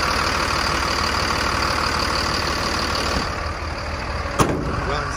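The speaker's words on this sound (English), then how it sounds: "It's a Mercedes engine." A Mercedes MBE 906 diesel engine idles in a 2007 Thomas bus, a steady low rumble running continuously with a brief sharp click near the end.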